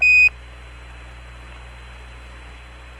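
An Apollo 12 spacecraft program alarm tone sounds as a single short, steady high beep, then cuts off and leaves only the steady hiss of radio static.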